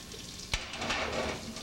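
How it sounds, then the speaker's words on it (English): Margarine sizzling in a pan before chicken is sauteed, a steady close frying hiss with a brief sharp knock of utensil against the pan early on. "we have our margarine sizzling away"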